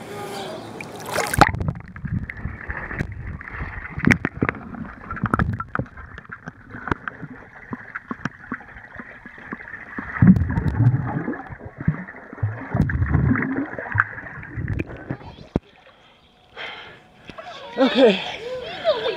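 A Panasonic TS3 camera records underwater in a swimming pool in Boise, catching dense muffled splashing, sloshing and bubbling that fades in and out over nearly twenty seconds, with a voice speaking near the end.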